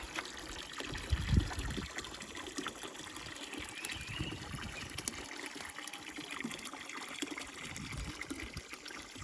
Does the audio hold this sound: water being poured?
yes